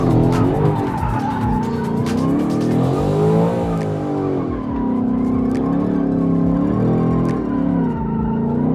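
A 2024 Ford Mustang S650 slides on a handbrake-initiated drift, its tires squealing and skidding continuously while the engine revs and wavers underneath, loud and close.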